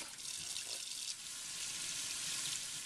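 Tap water runs steadily from a faucet while it is adjusted for temperature during algae scrubber cleaning for a reef aquarium, a constant close hiss with no talk.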